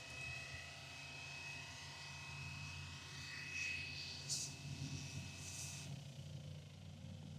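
A Fly Wing EC135 RC helicopter comes down to land on its own, its faint electric rotor whine holding a steady pitch before dropping away as the blades start to wind down, heard from a short distance.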